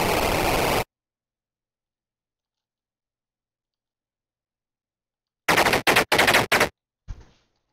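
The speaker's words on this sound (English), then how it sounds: "Oh, artillery." Artillery fire in the Armoured Commander video game: a loud burst at the start, a long silence, then a rapid cluster of sharp, heavy blasts followed by a fading crackle, with no talking.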